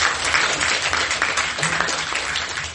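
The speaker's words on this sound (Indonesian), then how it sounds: "tepuk tangan untuk kita semuanya" A crowd at a political science studium generale lecture on 25 years of Reformasi breaks into loud applause, a thick, continuous rattle of many hands filling the room from start to finish.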